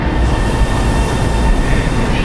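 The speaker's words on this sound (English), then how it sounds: "there's the next train coming now" A train pulling into a station platform, a loud steady rumble and rolling roar of wheels and carriages filling the whole stretch, close by with no talk.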